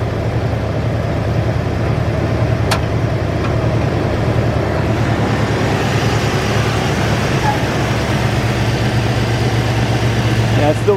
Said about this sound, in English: idle just went down because it only started at once earlier a few minutes ago